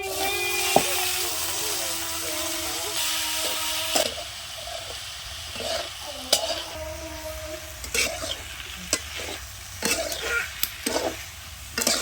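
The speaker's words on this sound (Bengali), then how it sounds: "পেঁয়াজটা ভাজা হয়ে গেছে ওর মধ্যে এবার শাক তুলে দেবো" Leafy nate greens being stir-fried with fried onions in a pan, a soft sizzle at first giving way to repeated scraping stirs and clattering knocks of the spatula.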